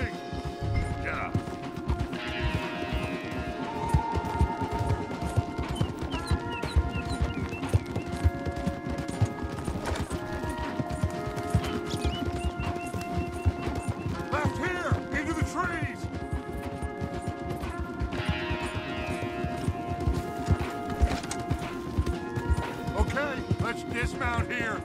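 Horses gallop hard in Red Dead Redemption 2, a steady drumming of hooves that runs without a break under a dense bed of game music and voices, with occasional crashing impacts.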